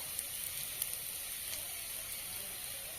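Lightly browned onions fry in a pan with turmeric powder for an egg pepper fry, giving a steady, even sizzling hiss with faint scattered pops and no voices.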